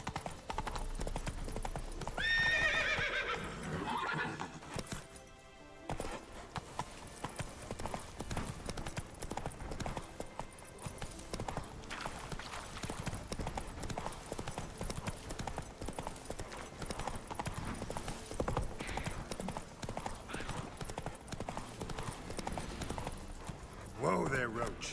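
Horse Roach's hooves clip-clop steadily at a gallop in The Witcher 3, a dense, continuous game soundscape with a brief whinny near the start and a voice talking over it.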